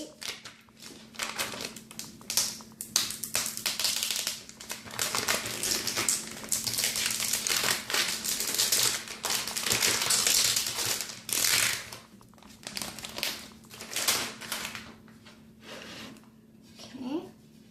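Transfer tape is peeled off vinyl applied to a cutting board, making a long crackling, sticky ripping sound in uneven bursts with soft taps and handling noises, close and fairly loud.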